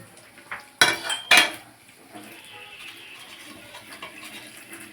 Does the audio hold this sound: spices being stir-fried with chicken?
yes